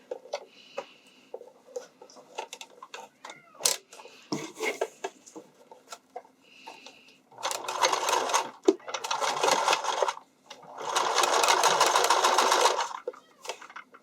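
A sewing machine stitches elastic onto a bikini top, its rapid steady whir running in three close, loud bursts after scattered handling clicks and taps.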